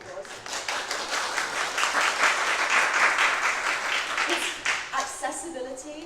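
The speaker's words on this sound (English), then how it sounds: "please say thank you and give them a round of applause" A conference audience at a Celebrate Bisexuality Day BiPlus community event gives a round of applause to ASL interpreters: dense, steady clapping that lasts throughout, with a few voices mixed in and a slight drop-off near the end.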